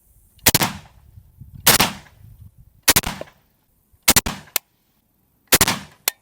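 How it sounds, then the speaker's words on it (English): A Zastava M91 rifle firing five shots at a shooting range, sharp loud cracks spaced about a second apart, each with a brief echoing tail, the last few coming in quick pairs, with no talk. "We're gonna go ahead and squeeze 5 rounds down range as carefully as we can"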